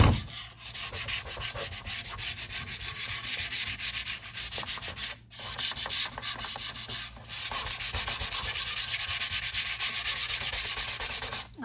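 A wooden mandala base is hand-sanded with sandpaper, giving a steady close rasping rub in quick back-and-forth strokes with a couple of brief pauses.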